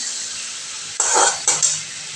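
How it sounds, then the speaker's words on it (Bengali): Spices sizzle and fry in a pan for a Bengali fish curry with potato and eggplant, a soft steady hiss joined by two louder bursts of stirring and sizzling about halfway through. "মশলাটা এবার ভাজা ভাজা হবে।"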